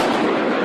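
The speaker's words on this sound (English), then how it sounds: "that's a big explosion when it hits those." Lightning striking a power transformer, a big explosive blast heard as a single loud, sustained crackling roar filling the short moment.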